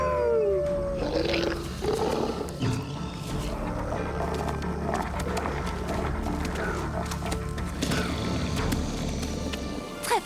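Cartoon wolves growl and snarl close by in a fairy adventure scene, a steady rumbling menace with scattered louder roars over a dense background of music and effects, no talking.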